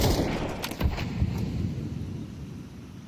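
A grenade blast in the Counter-Strike video game during an ESL Challenger League match: a few dull low booms and thuds in the first second or so, then a rumbling wash that fades slowly, with no talk.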